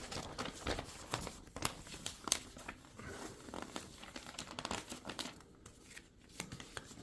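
A Leatherman multitool blade slices through glossy magazine paper, making close, crisp crinkling and tearing rasps in quick irregular bursts with brief pauses, and no voices.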